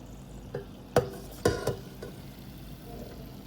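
Fried cuttlefish rings are lifted out of hot oil, with a few sharp metal clinks and scrapes of a utensil over a faint, steady sizzle. The sounds are close and sparse.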